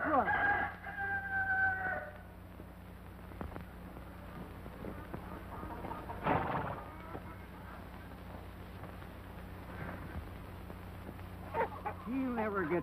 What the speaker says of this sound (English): Abby, help me find that rooster.